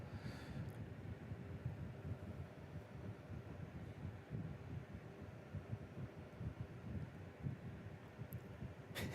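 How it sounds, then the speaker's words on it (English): Low, steady rumbling buffets the microphone as an electric fan blows straight at it, a constant breathy roar with a soft hum underneath and no talking. "If it sounds like it's windy where I am, it's because I have a fan blowing on my face"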